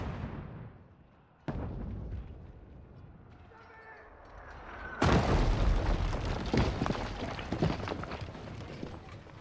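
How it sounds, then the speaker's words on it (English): Hand cannons fire during a battle in Kingdom Come Deliverance 2, producing heavy booming blasts, one sharp report early and a bigger rumbling volley later, over chaotic battle noise. "Keep firing! Don't stop! Those hand cannons are exciting."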